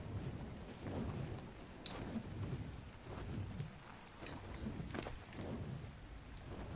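Thunderstorm in the video game ARK Scorched Earth, with rolling thunder rumbles and sharp cracks repeating over steady rain-like noise, several surges and bursts in quick succession.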